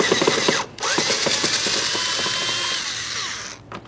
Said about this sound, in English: you're going to have to remove 4 Phillips head screws that hold the upper cover down to the housing